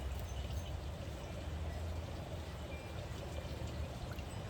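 Water poured steadily into the large tube of a pool test kit during chlorine and pH testing, a soft continuous trickle heard close and fairly quiet throughout.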